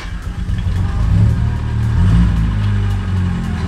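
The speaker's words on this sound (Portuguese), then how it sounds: "a galera que tem GM já me fala se essa demorada na partida é normal" A GM car engine cranks slowly with a close, rhythmic churning, then swells into a louder, rougher rumble as it struggles to start.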